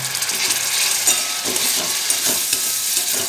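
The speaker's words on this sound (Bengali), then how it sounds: "এবার আমি এতে আরেকটু সামান্য জল দিয়ে আবার 1 মিনিট মতো কষাতে দেব" Spicy masala for Bengali egg curry cooks down in oil with a splash of water, giving a loud, steady steamy sizzle. A spatula scrapes and stirs in uneven strokes nearby, and no one talks.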